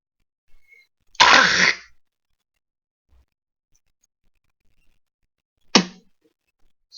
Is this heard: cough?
yes